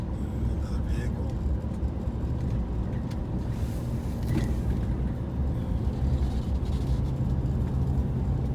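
A vehicle drives along a road cut into the side of a mountain, heard as a steady close engine and road rumble from inside a moving car, with someone talking over it.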